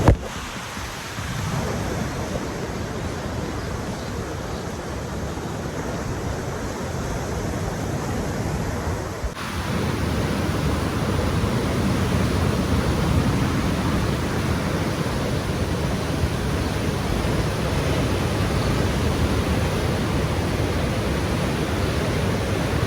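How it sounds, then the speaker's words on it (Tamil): Sea waves crash continuously with strong wind gusting across the microphone on the coast at Tanah Lot, Bali, a loud, unbroken roar with no talking. "பின்னால் ஃபுல்லாக கடல் அது இது அலைகள் ரொம்ப அதிகமாக இருக்குது."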